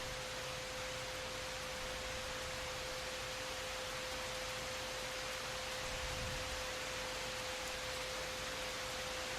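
Rain in the video game Project Zomboid: a steady, soft wash of hiss with no distinct drops, quiet and unbroken, with a faint constant tone running underneath.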